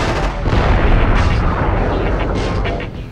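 Minigun firing in the video game Future Cop LAPD, a loud, dense, continuous roar of rapid fire mixed with booming explosions, sustained for the whole stretch without pause.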